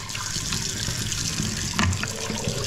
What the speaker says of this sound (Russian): Сейчас все это дело еще водой полоснем.